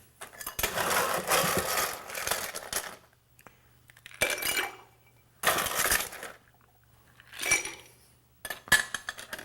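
Ice cubes dropped into a glass holding Campari for an Old Pal cocktail, heard as several loud clattering bursts of rattling ice separated by short pauses, with no talking.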